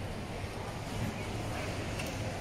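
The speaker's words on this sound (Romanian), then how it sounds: "Aici bate vânt." Steady wind blowing outdoors beside a supermarket, a constant broadband rush with low buffeting on the microphone, continuous and fairly loud throughout with no voices.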